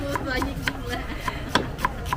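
Ginger being chopped with a knife at a market stall in Bangkok, a steady run of sharp, close chops roughly every third of a second, with some background noise.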